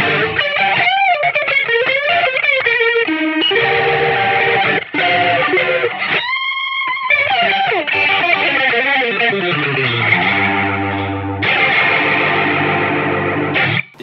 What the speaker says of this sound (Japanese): リードを取るときにロータリーのシミュレーションというのをかけている、こう聞いたことのあるような音色がありますので